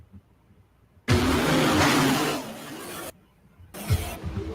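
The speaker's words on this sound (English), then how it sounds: "it's just tractor sound." A tractor engine plays back from a recorded video, loud and rough for about two seconds before fading, then cutting out and returning briefly, heard close without talk.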